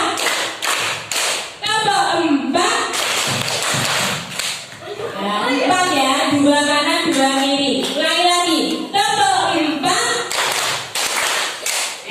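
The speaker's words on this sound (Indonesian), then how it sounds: "Sekali lagi, tepuk 1, tepuk 2, tepuk 3" An audience claps in counted rhythmic bursts of sharp, close claps. A voice leads the counting between the claps.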